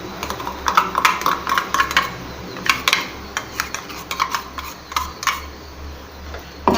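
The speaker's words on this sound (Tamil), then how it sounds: "நல்லா கிளறிக்கோங்க." A spoon scraping and clinking against a metal pot while ground roasted masala paste is stirred into a chicken curry, with repeated close, uneven scrapes over a steady low kitchen hum.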